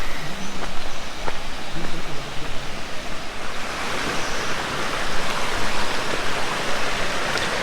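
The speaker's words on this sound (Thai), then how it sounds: "มันจะเป็นเหมือนน้ำไหลผ่านแก่งหินฮะ" Constant rushing roar of a waterfall pouring over rocks, loud and close, with a voice briefly audible early on.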